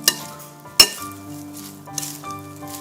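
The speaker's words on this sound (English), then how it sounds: "Now we can just mix everything together. You want to mix them very well together." Seaweed pasta ingredients being mixed in a bowl, with two sharp utensil clinks against dishware over soft stirring and faint sizzle-like rustle, near and moderately loud, no talking.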